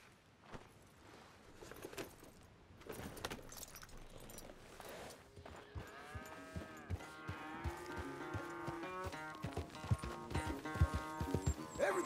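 Horse hooves clip-clop at a steady walking pace in Red Dead Redemption 2, with the footfalls rising in density under swelling game music and faint ambient sound.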